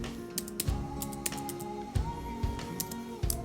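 Keys on a computer keyboard tapped at an uneven pace, a dozen or so soft close clicks over a steady electronic hum, with no talking.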